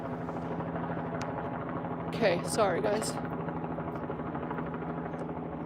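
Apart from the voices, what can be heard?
helicopter overhead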